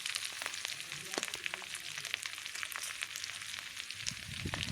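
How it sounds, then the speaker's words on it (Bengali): Chopped onion and green chilli hitting hot oil in a wok, a bright, busy sizzle with crackling pops throughout, fairly quiet, with a soft clunk near the end. "তেলটা গরম হয়ে গেছে দিয়ে দিলাম ফোড়নে পেঁয়াজ কুচি আর কাঁচা লঙ্কা"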